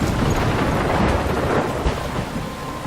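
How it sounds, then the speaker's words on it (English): A thunderstorm in Life is Strange, with a loud rumbling roll of thunder over steady heavy rain that continues throughout. "I'm trapped in a storm?"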